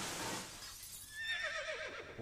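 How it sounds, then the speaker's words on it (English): A horse whinnies in a Yu-Gi-Oh Abridged episode: a wavering, descending neigh that follows a brief noisy crash and stands out fairly clearly, with no talk. "The horse was still alive."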